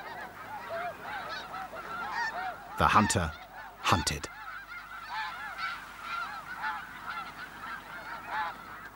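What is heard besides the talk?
geese honking at a wolf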